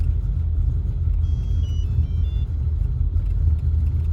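A rough-running car engine idles unevenly after being shifted into drive on an unfinished speed density tune, a steady low rumble holding close and fairly loud with no voices.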